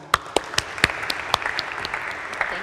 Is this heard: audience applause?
yes